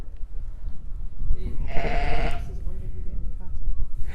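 Ewes and lambs bleating in a lambing shed with triplet lambs, one clear bleat rising over the steady murmur of the shed, with people talking nearby.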